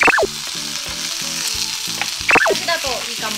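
Yakisoba noodles and vegetables stir-fry in a hot pan, giving a loud, steady sizzle, with a couple of sharp clanks from the pan or spatula near the start and again partway through.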